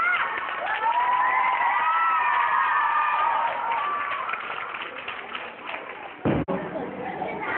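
An audience at a children's fashion and dance program cheers, with excited shouts and high-pitched children's voices rising over a lively crowd, fading slightly before a sudden thump near the end.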